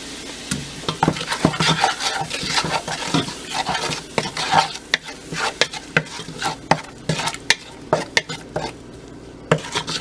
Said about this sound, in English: So we're gonna let that fry for a minute or so